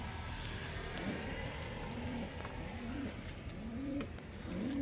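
Pigeons or doves coo near their two eggs, repeated soft rising calls at steady intervals over a constant background hiss.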